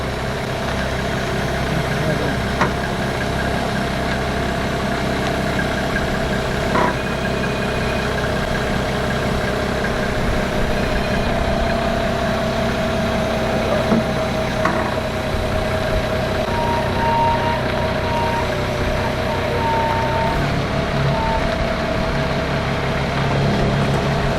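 A vehicle engine idles steadily as the vehicle is driven onto a trailer, a continuous medium-pitched hum with faint clanks throughout, close and moderately loud.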